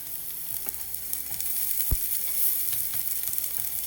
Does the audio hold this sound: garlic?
yes